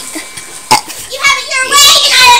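A young boy burps his way through the alphabet, drawn-out guttural belches stretched into letter sounds, loud and close, with a brief adult voice near the start.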